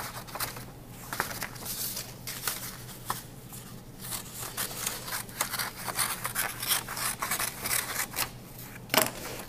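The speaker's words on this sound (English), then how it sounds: "You're going to take your strip of paper and you're going to cut it in half, right down that line." Scissors snip through a strip of paper in repeated short, crisp cuts with small scraping and rustling between them, close and moderately quiet, with no talking.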